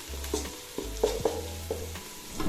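Onions sautéing in a pan for Palakkad-style chicken biriyani, a soft sizzle under a few distinct scraping stirs and spatula taps, close and brief, with a low steady hum and no talk.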